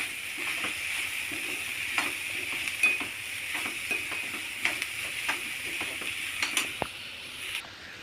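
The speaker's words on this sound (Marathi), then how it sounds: "कांदा चांग चांगल्यापैकी तेलामध्ये पलटून घ्यायचं" Chopped onion and finely cut green chillies stir-fried in oil in a pan, a steady soft sizzle with occasional scraping and clicking of the spoon against the pan, with no talking.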